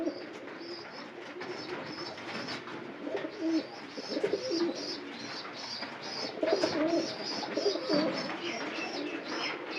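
Pigeons in a home loft coo with soft, throaty, repeated calls over a quiet hiss. Several birds overlap at moderate distance.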